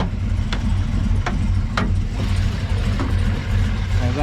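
A car with an engine fitted with headers idles with the hood open, a loud, deep, lumpy rumble heard up close, with a few sharp clicks over the steady throb.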